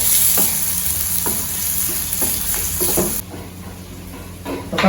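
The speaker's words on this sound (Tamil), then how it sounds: "இப்போ இது நல்லா பொரியிற மாதிரி வதக்கலாம்." Steady sizzling of food sautéing in a hot frying pan, with a ladle stirring and scraping at regular intervals, loud and close, briefly quieter near the end.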